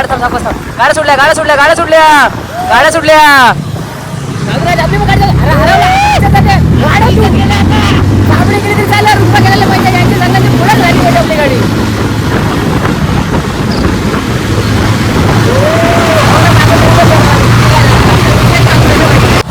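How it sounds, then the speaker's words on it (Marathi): Vehicles set off and drive along, a continuous loud engine and road rumble with heavy wind buffeting the microphone, while people talk and shout excitedly over it. "गाड्या सुटल्या."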